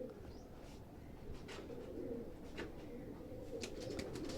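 Pigeons coo softly in a well-kept loft, a low, continuous murmur of several birds with occasional brief flutters, fairly quiet and alone.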